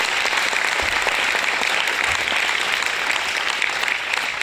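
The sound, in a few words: audience applause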